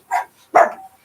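A white Labradoodle gives two sharp, close barks in quick succession, loud and alone, with a short gap between them.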